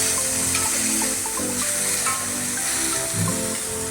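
Onions fry in a pan with a little salt, giving a steady, close sizzle and hiss that runs evenly throughout without pause.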